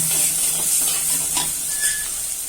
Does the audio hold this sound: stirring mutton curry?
yes